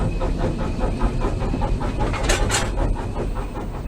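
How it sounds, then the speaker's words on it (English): A steam train pulls out of a station on a slight downgrade toward Corfe Castle, top and tailed with a second engine pushing at the rear: steady rhythmic chuffing and clanking wheel beats with hiss, and two sharper bursts of steam near the middle. "we're just leaving the station on a slight downgrade, heading to Corfe Castle"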